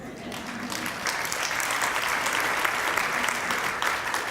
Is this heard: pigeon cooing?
no